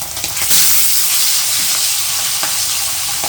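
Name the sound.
hilsa fish tail frying in a pan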